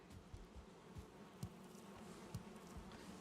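Faint, low buzzing of bees in a Viking survival video game, a soft continuous drone with small periodic swells, quiet and in the background.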